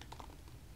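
A few quick keystrokes on a computer keyboard: soft, close clicks in a short, light run with no talking.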